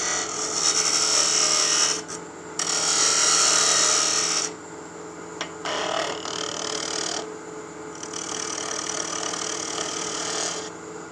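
Wood lathe parting down a salt and pepper mill blank, a close whining cut with bright high scraping bursts that start and stop several times over a constant motor hum, no talk.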